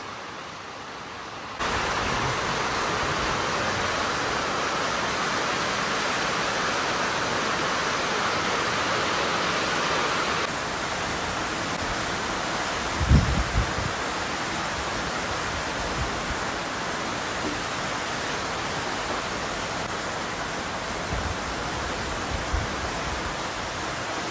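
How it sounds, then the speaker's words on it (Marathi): Heavy monsoon rain pours down at a cattle shed housing Khillar cows, a dense, steady hiss that swells after a couple of seconds and holds, with a few faint low thumps partway through. "पाऊस लय वाईट पडतोय राव"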